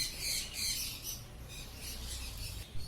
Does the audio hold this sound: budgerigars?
yes